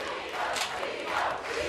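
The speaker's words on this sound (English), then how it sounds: "Listen to this crowd." A wrestling arena crowd roars in steady, loud cheering for Tito Santana, a dense wash of many voices with swelling shouts rising and falling throughout.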